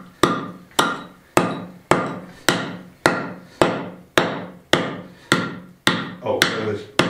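Chisel and hammer chipping out stones from a 150-year-old natural stone kitchen floor, about a dozen sharp, loud, evenly spaced strikes with a brief ring after each.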